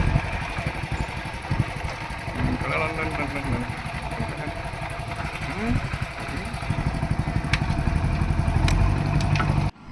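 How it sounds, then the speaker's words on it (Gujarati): A JCB backhoe engine runs steadily at a work site, with a continuous mid-pitched diesel throb close by that grows slightly louder toward the end. "જીસીબી ચાલુ જ છે"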